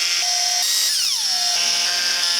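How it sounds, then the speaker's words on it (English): A power drill boring holes in the center console of an NA Mazda Miata during interior work, with a steady high whine that sags in pitch as the bit bites and then recovers, close and continuous. "We did a bunch of drilling, and we made new holes for them with screws"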